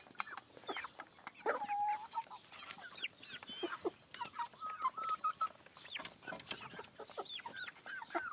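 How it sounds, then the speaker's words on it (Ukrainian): Several three-month-old Master Grey chickens, hens and young roosters, cluck and chirp close by in a busy, continuous chorus, with sharp calls overlapping one another. "Ось така курочка, ось такі півні."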